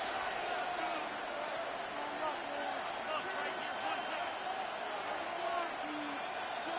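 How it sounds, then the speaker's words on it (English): A stadium crowd roars in Madden 26 during a Commanders vs Steelers game. The noise is a steady, distant wash of cheering that holds at an even level the whole time. "The crowd making their presence felt."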